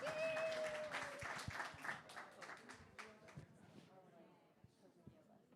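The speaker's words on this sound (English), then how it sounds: "Can we give them a round of applause?" Audience applause for panelists at the launch of a climate exhibition, a burst of clapping that starts full and tapers off over a few seconds, with some speech mixed in.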